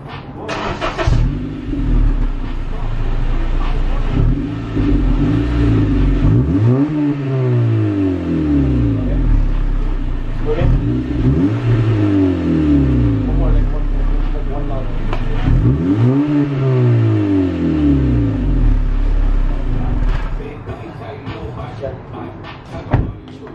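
A Honda Civic Si with its stock muffler still fitted idles, then revs hard in three separate bursts that rise and fall, with faint voices in the background.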